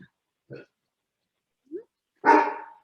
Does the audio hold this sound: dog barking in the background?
yes